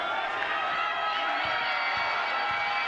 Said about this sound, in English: Got a loud crowd here tonight.